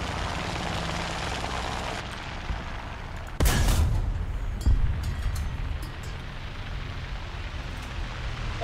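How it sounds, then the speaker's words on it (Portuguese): Airplane from a video game set in Japan, a steady engine drone that swells suddenly as it passes close overhead, then settles back into a continuous rumble with a few sharp clicks. "Tem um avião indo pra ti."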